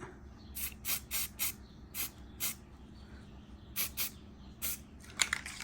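Repeated short bursts of aerosol spray, a dozen or so quick hissing puffs with brief pauses between, close and fairly quiet.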